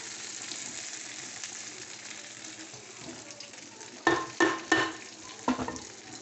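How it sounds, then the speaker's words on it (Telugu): Hot tempering sizzles into peanut chutney in a bowl, a continuous crackling fizz followed by several sharp clinks and knocks of a spoon or pan near the end. "ఆ తాలింపు వేసుకున్న దాన్ని మనం గిన్నెలో తీసుకున్నటువంటి పచ్చట్లని వేసేసుకుందాం"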